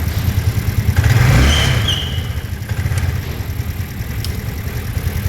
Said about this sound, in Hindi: गाड़ी स्टार्ट करते हैं भाई